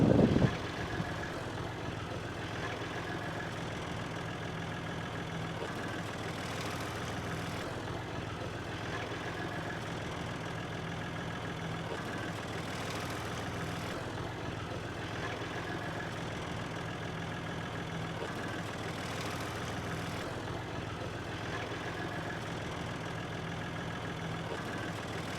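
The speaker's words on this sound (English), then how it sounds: "Righto, Bill, you're on the tractor, mate." A tractor engine runs steadily at a low, even idle for a long stretch, moderately loud with no talking.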